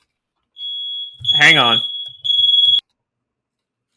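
A smoke alarm sounds a loud, sharp high-pitched tone indoors, cut briefly by someone speaking over it, then resuming in a second short burst before stopping abruptly.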